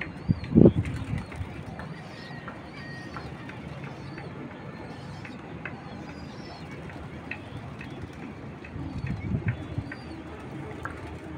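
Pigeons cooing and calling outdoors in the late afternoon, soft low coos scattered over a muted background, with a brief flap of wings near the start.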